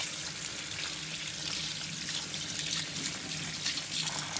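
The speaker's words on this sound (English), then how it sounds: "I am not overwashing the rice, just a little, just 1 or 2 rinses" Rice being rinsed with water in a bowl, a continuous close wash of running, splashing water at moderate level, steady throughout with no voices.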